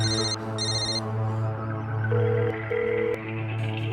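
A phone ringtone repeats in short electronic bursts, a melodic trill pulsing several times over a steady background hum.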